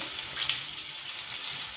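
Chopped onions and green chilies fry in a pan with a dense, even sizzle that holds steady for a short stretch, close and unbroken.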